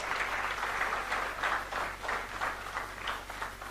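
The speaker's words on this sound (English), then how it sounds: "Let's give them a big round of applause." An audience applauds Karan Johar and Alia Bhatt at the grand launch of a Viacom18 brand, Colors Infinity; steady, dense clapping from a crowd of moderate size holds at even strength throughout, with no voices over it.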